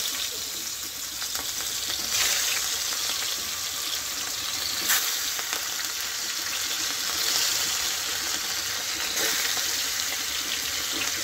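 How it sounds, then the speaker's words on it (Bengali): Hilsa fish frying in hot mustard oil in a pan, a steady bright sizzle that runs the whole time with faint clinks and small bursts of crackle, no voices. "তেলটা গরম হয়ে গেছে, এবার মাছগুলো দিয়ে দেব।"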